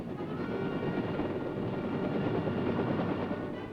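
Steady, dense rotor and engine roar from a helicopter gunship in combat, loud and continuous throughout with no voices.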